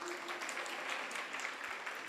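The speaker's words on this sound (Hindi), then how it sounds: "अब बजाओ ताली।" Group of people clapping at a recitation session of the Bhaktamar Stotra, a steady dense patter of many hands, moderately faint and continuous with no voices over it.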